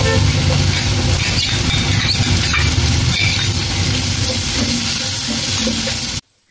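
Sliced onion hits hot oil in a pan already holding garlic and turmeric, giving a loud, steady sizzle and frying crackle with some stirring, cutting off abruptly at the end.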